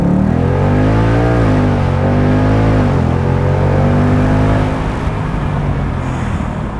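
Automatic Ford Mustang GT doing a brake-boost launch, its V8 engine roaring loud and close as it climbs steadily through the revs, with a brief dip at a gear shift before pulling hard again.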